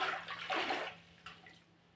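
Salted water for potato chips is stirred in a pot, soft sloshing and swishing close by in two quick swells that fade, with a small splash near the end.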